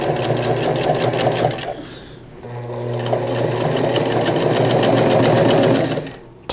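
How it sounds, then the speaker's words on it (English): A sewing machine runs in fast, steady bursts while top stitching the bottom hem of a shirt made from a bed sheet, pausing briefly midway before continuing close and loud. "Now I'm top stitching the bottom hem first."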